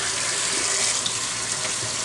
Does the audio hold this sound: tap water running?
yes